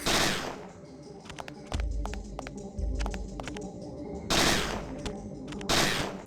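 Repeated gunfire in the video game Parasite Eve II, a string of sharp shots at irregular intervals with heavier blasts and deep low booms between, loud and close with no talking.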